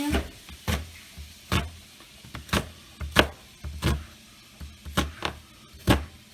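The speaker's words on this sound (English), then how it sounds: "Now we're gonna cut this up." A knife cuts up food on a board for tomato mac and cheese, striking about ten distinct chops in an uneven rhythm, close and fairly loud, with no talk.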